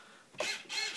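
A small, cheap $7 digital servo motor makes two brief, close whirring buzzes in quick succession, faint and mechanical.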